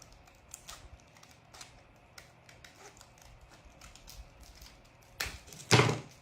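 Scissors cutting a plastic wall tile grid sheet for a craft project: scattered light snips and taps, then a couple of louder, close cutting crunches near the end, with no talk.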